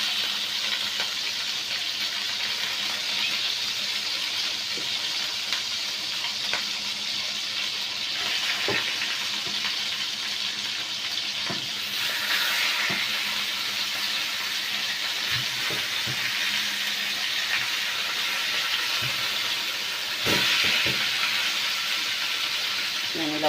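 Lamb meat hits a very hot pan and sizzles with a continuous dense hiss, steady and close, with a few light clatters from stirring or shifting pieces.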